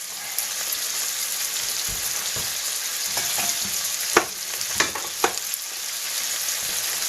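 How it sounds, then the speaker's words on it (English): Prawns frying in a pan as thick curry sauce goes in, producing a constant bright sizzle with a few sharp spits and clacks of a spoon toward the end. "I'm going to put some of this curry sauce in"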